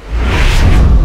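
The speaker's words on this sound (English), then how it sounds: "I'm also gonna bring in this sci-fi whoosh sound effect for this casting line throwout." A sci-fi whoosh sound effect used for a fishing line cast, a loud, broad rushing swell that rises quickly and sustains for about a second.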